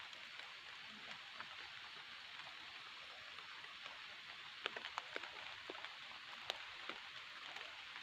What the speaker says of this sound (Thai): ฝนเริ่มโปรยบางๆเลยนะครับ